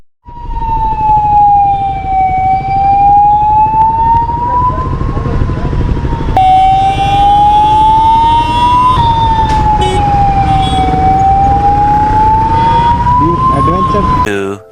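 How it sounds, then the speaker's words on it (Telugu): An ambulance siren wailing loudly and close amid road traffic, its tone sweeping slowly up and down in long cycles and continuing throughout, with engine rumble underneath. "ఆ సైరన్ నన్ను వదులుతలేదు అసలు."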